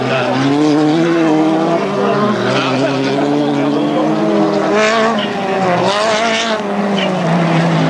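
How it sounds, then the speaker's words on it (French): Race cars including a BMW roar around a 1998 national autocross circuit at Bellegarde, loud engines rising and falling continuously as they accelerate, with a commentator talking over the noise. "Galino qui attaque la BMW, qui se sent bien à la fin de sa course juste après"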